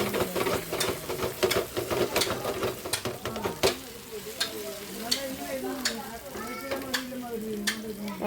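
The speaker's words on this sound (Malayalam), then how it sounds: "അടുത്തതായിട്ട് നമ്മുടെ പൊട്ടാറ്റോ ഫ്രൈ ചെയ്യാം" Potatoes fry in a pan, giving steady close sizzling with stirring and scraping clatter, a few sharp clicks, and oil crackle that keeps on throughout.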